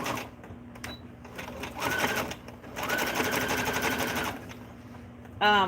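A sewing machine stitches an overcast zigzag along fabric edges, running in two rapid buzzing bursts with short pauses between, then a brief sharp whir at the end.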